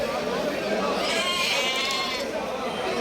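Female Bandur sheep lambs, about three to four months old and slightly crossbred, bleat in a few drawn-out cries over steady background murmur of voices.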